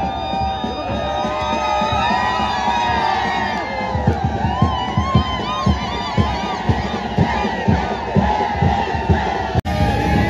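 A large crowd at the Ekvira Devi palanquin procession cheers and whoops with shouts rising over a steady roar, punctuated by rhythmic drum hits, loud and close.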